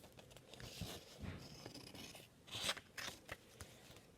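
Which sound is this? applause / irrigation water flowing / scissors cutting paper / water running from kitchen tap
scissors cutting paper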